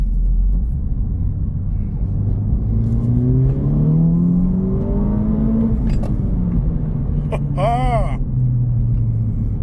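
A Honda Civic Type R FL5 with an RV6 front pipe, heard from inside the cabin on a highway: a loud, continuous engine rumble rises in pitch as it accelerates, with a voice speaking over it.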